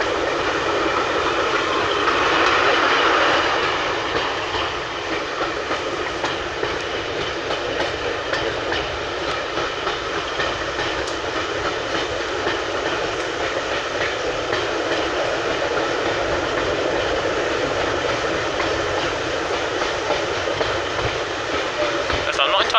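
Heard from aboard a steam train running between Dereham and Hoe, hauling a brake van and a milk tanker. It makes a steady, loud rolling rumble with faint rail clatter throughout.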